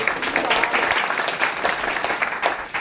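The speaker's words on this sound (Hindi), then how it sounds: "सर के लिए जोरदार तालियां हो जाए" An indoor audience breaks into enthusiastic applause at a talk, dense clapping that holds steady and fairly loud for a few seconds.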